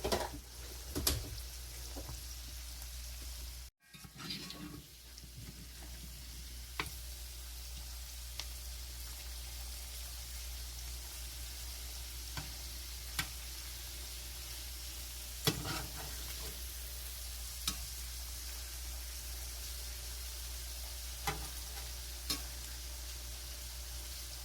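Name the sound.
salmon nuggets frying in a pan, flipped over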